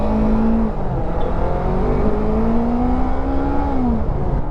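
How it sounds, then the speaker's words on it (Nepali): A motorbike rides along a road in the daytime, a steady close engine drone with rising and falling tones as it runs through the gears, with strong wind rumble and no talking. "धेरै पछि यसरी बाइक लिएर दिउँसो निस्किरहेको छु म होइन"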